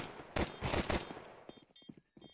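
Dual Berettas pistol fire in a Counter-Strike match, a loud burst of rapid shots in the first second followed by scattered fainter pops and clicks.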